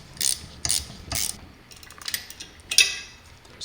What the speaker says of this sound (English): Using a 5/32 Allen head and a 3/8 wrench.